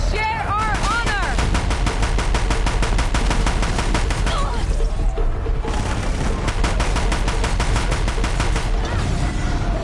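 Rapid bursts of gunfire crackle through a Horizon Zero Dawn battle, loud, close and sustained, with fast repeated shots and a brief voice shout early on.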